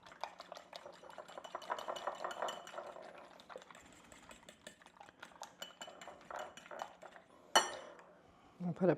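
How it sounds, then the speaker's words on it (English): Eggs are whisked in a bowl for stuffed French toast, making rapid metallic clinking and scraping strokes in quick bursts with a brief pause. A louder clatter follows near the end. Close and moderately quiet. "I'm going to give these a good whisk."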